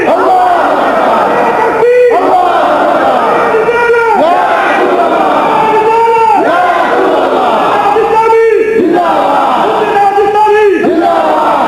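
A large crowd at a London sermon shouts takbir in response, loud massed voices chanting in repeated swelling calls one after another, dense and continuous throughout.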